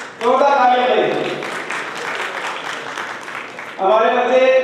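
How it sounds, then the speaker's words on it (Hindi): An audience applauds at an award ceremony honouring achievers, a dense wash of clapping from about one to four seconds, with a loud voice speaking over the start and end. "जोरदार तालियां बजाइए।"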